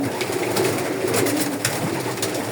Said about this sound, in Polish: Te gołębie były rozprawagowane przez braci Jansen.